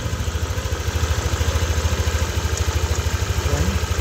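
A warm Yamaha Nmax V2 scooter engine idles close by with a fast, even pulsing throb, and a faint light ticking rattle rides on top of the steady running.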